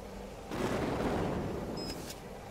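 Mortar artillery in the game Cepheus Protocol fires a heavy, broad boom at half a second, then rumbles on as a sustained roar, with a couple of faint sharp ticks near the end.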